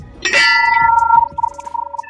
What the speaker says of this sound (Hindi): घंटी की खनखनाहट आवाज, मधुर ध्वनि